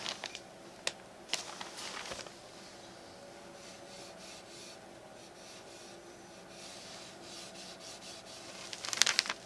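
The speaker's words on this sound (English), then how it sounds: "I'm going to rub it along the inside of this edge here to apply the stain" A rag rubs dark walnut stain along the inside edge of a wooden AR15 magazine speed loader, giving faint, soft scrubbing strokes with a few sharper scuffs at the start and end, close and quiet with no talking.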